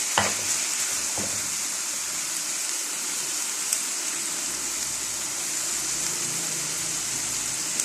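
Minced meat fries in a pan with a continuous bright sizzle, broken by a few scraping knocks of a utensil as it is stirred and turned.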